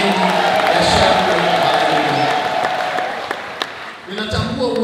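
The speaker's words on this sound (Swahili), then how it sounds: "Tumpigie Bwana makofi mengi ya shangwe." A church congregation at a Sunday service claps and cheers in a broad burst of applause, mixed with speech and a few whoops, fading slightly toward the end.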